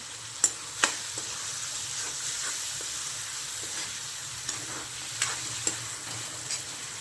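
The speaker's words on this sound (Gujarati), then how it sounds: "હવે લીલી ડુંગળી કેપ્સિકમ નાખી દઉં અને ટામેટા મિક્સ કરી દઉં બધું" Green onion, capsicum and tomato stir-fried in a pan, with mustard seeds already in the oil: a close, continuous hissing sizzle with a few sharp spatula knocks near the start and scattered scrapes later, no voices.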